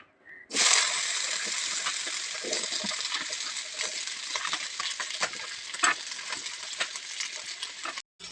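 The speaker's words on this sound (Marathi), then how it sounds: "सर्व काही वाटण मी तव्यावरती टाकलं आहे आता छान वाटणाला आपण भाजू देऊया" Ground spice paste roasting in oil on a hot griddle sizzles and spits steadily for several seconds, with scraping stirs and small splatters over a continuous bright frying hiss.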